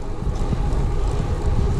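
Strong wind buffets the microphone during a cycling event ride in the Drôme Provençale, a steady low roaring rush with gusty rumbling throughout.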